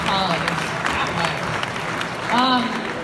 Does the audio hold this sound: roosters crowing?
no